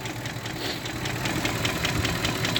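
A Range Rover Vogue with a BMW M62B44tu V8 idles with a persistent knock, a steady rumbling hum overlaid by regular ticking taps, recorded close to the running engine.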